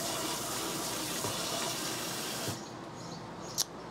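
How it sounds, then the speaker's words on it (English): An RV sink faucet in a 2022 Jayco White Hawk 27RB sprays a steady hissing rush of water that cuts off abruptly partway through, followed by a faint click. "so you got the steady spray of water and you got the stream"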